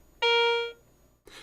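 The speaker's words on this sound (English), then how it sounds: "Targets with a high conductivity, such as most U.S. coins, produce Garrett's exclusive coin alert," A Garrett AC 250 metal detector sounds its coin alert for a high-conductivity target, a single clear electronic bell-like tone lasting about half a second and then fading, with no voices.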